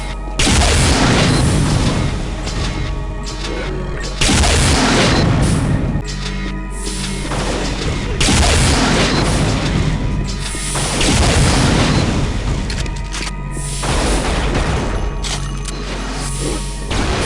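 Booming explosions and crashing impacts from a firefight in the first-person shooter Unreal, arriving in loud repeated bursts with brief lulls between them, filling the scene with heavy blasts.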